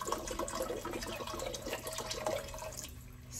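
Vegetable broth poured into a pot of split peas, a soft continuous splashing and trickling of liquid close by, fairly quiet and steady for a few seconds.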